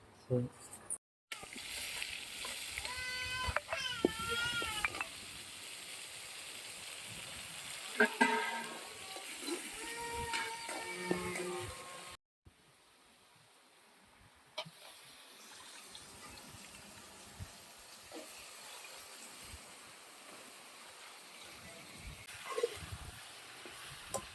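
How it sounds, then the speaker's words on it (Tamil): Slices of raw green plantain fry in a pan in a home kitchen, giving a quiet, steady sizzle that runs under intermittent talking and other soft kitchen noises, with a couple of brief dropouts. "வானக்கா வறுக்க போறேன்"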